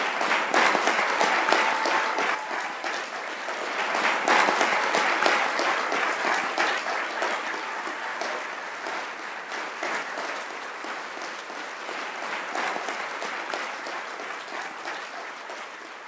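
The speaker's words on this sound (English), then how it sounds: "Can we just give her another round of applause?" Audience applause after a performance at an Afro Latinx cultural celebration, a long, full burst of clapping that stays strong for many seconds, then gradually thins and softens toward the end.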